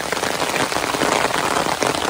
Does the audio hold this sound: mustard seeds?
no